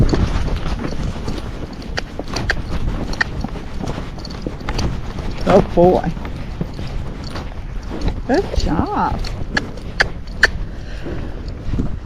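Horse hooves clip-clop steadily along a trail at a walking pace, with a person briefly speaking encouragement over the rhythmic footfalls.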